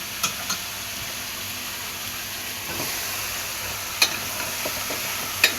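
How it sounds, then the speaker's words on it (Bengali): Prawns and chunks of bottle gourd fry and get stirred in a pan. There is a soft, steady sizzle with occasional sharp scrape clicks from the spatula, and no voices. "চিংড়ি মাছ ভেজে নিয়ে এবার কিন্তু আমি দিয়ে দিচ্ছি লাউ"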